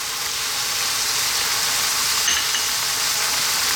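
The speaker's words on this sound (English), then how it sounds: "Let's just give this a little mix around for a bit." Beef curry with garam masala, turmeric, coriander, chili and cumin stirred in a hot pan: a continuous, even sizzling hiss with one faint clink midway and no voices.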